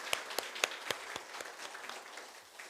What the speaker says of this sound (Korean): 두 분을 위해 다시 한번 크게 박수하겠습니다.